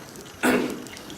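Water poured into a container for blanching jalapeños in a home kitchen, a single short splashing pour that starts abruptly and fades quickly, close and fairly loud, with no talking.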